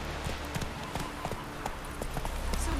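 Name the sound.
horse Roach's hooves clip-clopping, The Witcher 3 video game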